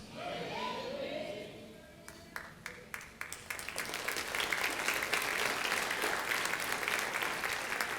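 A church congregation breaks into applause during a sermon, starting with a few scattered claps under the preacher's voice and swelling into steady, full clapping that fills the room.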